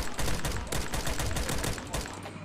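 Rapid automatic fire from a Scar rifle in a Minecraft-style first-person shooter rattles on in a steady, dense stream for the whole stretch, loud and close.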